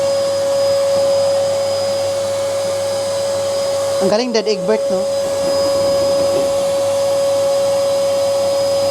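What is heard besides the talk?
vacuum cleaner running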